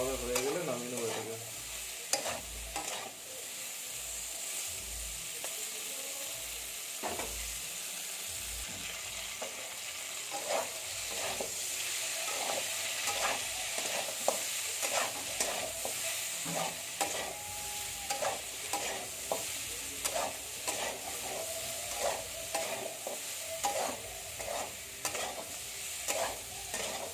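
Salt and turmeric get stirred through frying food in a pan, a continuous sizzle broken by repeated scraping and knocking strokes of the spatula, rhythmic at first and then irregular, with no talking.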